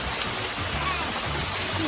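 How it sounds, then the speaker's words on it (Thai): A jungle waterfall deep in a forest, heard as a steady, broad rushing of falling water, fairly close and continuous throughout, with faint low murmurs underneath. "เข้ามาจนน้ำตกเลย"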